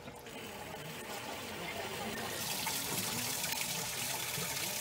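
Water gushes from a Ford Model A radiator into a bucket during a flow test, a steady close splashing pour that swells louder midway, with a person talking over it.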